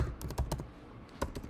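Quick bursts of keystrokes on a computer keyboard, close and clear, a flurry of taps then a pause before a few more, with no voices.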